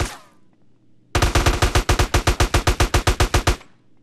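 Gunfire while shooting enemies in GTA San Andreas: a single sharp shot, a pause, then a loud rapid burst of about twenty evenly spaced automatic rounds, close and clear with no talk.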